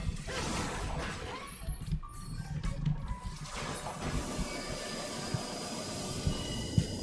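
Train running in the game Final Fantasy XIV Endwalker, a continuous rumbling clatter of wheels and carriages with occasional metallic knocks, steady and fairly loud.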